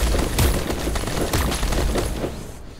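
Gunfire in the video game Protectors comes as a loud volley of sharp shots and bursts at an uneven pace, close, and fades out at the end.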